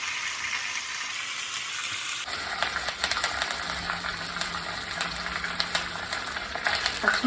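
Mustard seeds, urad dal, chana dal and cumin frying in hot oil for a rava upma breakfast, first a steady hiss and then a close, crackling sizzle with scattered pops and spatters, no voices.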